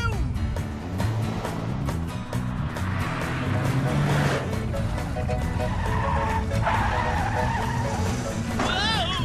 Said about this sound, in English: The brakes don't work, Olly!